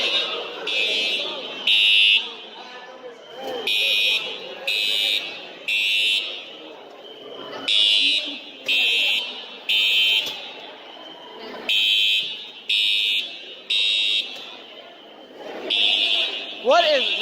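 Fire alarm ringing at lunch inside a building: a loud, harsh electronic buzz pulses on and off about once a second for many cycles, with people talking throughout between and under the blasts.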